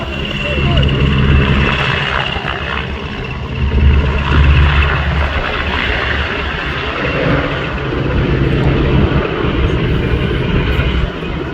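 A PZL W-3 Sokol helicopter flies a display at RIAT, its steady rotor and engine roar loud and continuous throughout, swelling slightly at moments, with faint voices talking underneath.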